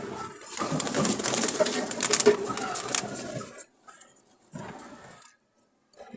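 A Jalali pigeon, a red-eyed fancy breed, gives a restless cooing call close by, strong for a few seconds and then trailing into two shorter coos with brief silences between.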